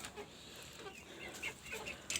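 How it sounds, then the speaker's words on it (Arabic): Native chicks and adult chickens clucking and cheeping faintly in an enclosed light well, scattered short calls over a soft background hiss. "هم دخلوا مع الفراخ الكبار، ادي هم الكبار مع بعض"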